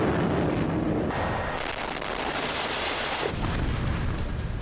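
A massive bomb blast in the Gaza war, a loud rumbling roar of explosion and debris that swells and shifts over several seconds with no speech.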